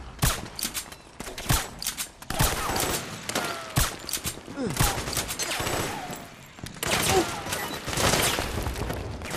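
Gunfire crackles across a Metal Gear Solid 4 battlefield in dense, overlapping bursts of automatic shots and single cracks, loud and continuous, with occasional booms and crashes mixed in.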